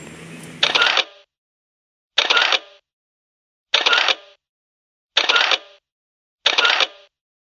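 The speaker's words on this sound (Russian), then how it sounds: "еще надо на фотоаппарат пофоткать" A camera shutter clicks five times at steady intervals of about a second and a half, each click crisp and close against silence, while someone photographs small horses in Yakutsk in autumn rain.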